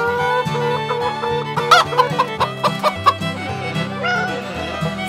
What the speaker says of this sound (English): Here we have some chicken, rooster,